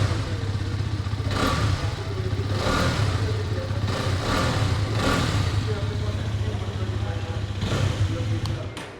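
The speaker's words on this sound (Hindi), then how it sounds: "सो कुछ इस टाइप से था एग्जॉस्ट नोट एक्सट्रीम 250R का" A Hero Xtreme 250R motorcycle engine runs steadily nearby after a cold start with a low throbbing exhaust note, swelling in a few rhythmic pulses, while a person talks over it.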